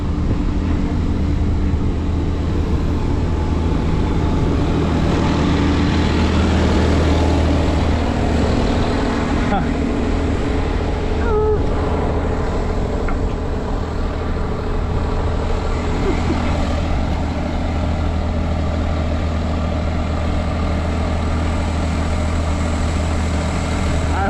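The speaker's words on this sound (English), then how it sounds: "I hope the video, this camera is picking up the sound coming out of that tractor. It really sounds good." Several Minneapolis-Moline 4X4 tractors plow together in one field, their engines running in a steady, loud, continuous rumble throughout with no voices.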